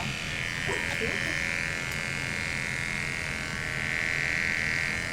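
Electric clippers buzz steadily while shaving fur from an animal patient during surgical prep, a continuous close hum running the whole time with faint background speech.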